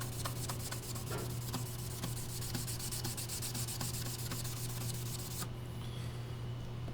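Leather dye being rubbed by hand into a piece of figured wood, a steady continuous scrubbing sound with rapid repeated strokes, close and fairly even throughout, with no talking.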